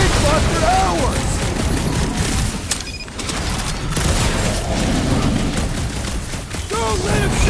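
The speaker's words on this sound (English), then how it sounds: "Feels like I've been shooting that big boss for hours!" Rapid gunfire and heavy booms aimed at a big boss in the video game Marvel's Guardians of the Galaxy, loud and continuous, with voices calling out over the chaotic battle.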